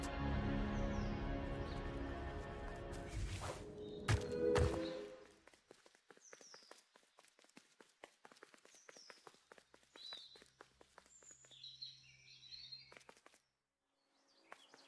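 Birds chirp and flutter in a forest in the game The Last Campfire, scattered short calls and wingbeats at moderate distance after a heavier rumbling passage, thinning out toward the end.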